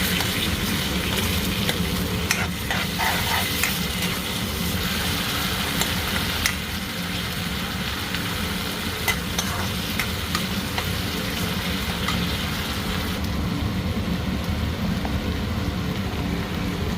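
Yogurt is stirred into ginger-garlic paste frying in a pan for crab malai curry, giving a continuous dense sizzle with scattered scraping stir strokes. A low steady hum runs underneath throughout.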